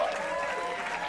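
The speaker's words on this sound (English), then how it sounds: "Clap it up." Short burst of crowd applause welcoming Queen Ahsatan into the 100 Kings 100 Queens tribe, steady clapping from a small group with faint voices mixed in.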